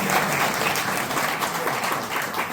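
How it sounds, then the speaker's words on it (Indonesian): Congregation at a Christian fellowship meeting applauding together, a dense steady roar of many hands clapping at close range, sustained evenly throughout with no talk over it. "Give a strong applause to the Lord."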